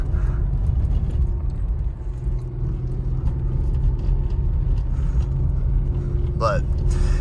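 A 2017 Porsche Macan S in off-road mode drives through sand, giving a steady low engine rumble and road noise from inside the cabin, with a brief higher whine near the end.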